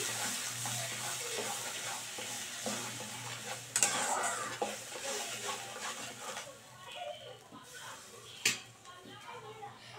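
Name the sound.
stirring yogurt into paneer gravy in a pan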